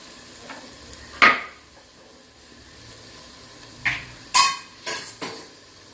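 Chopped tomatoes go into a cooker for mushroom biryani and are stirred, a few sharp metallic scrapes and clinks of a spoon against the pot over a faint frying hiss.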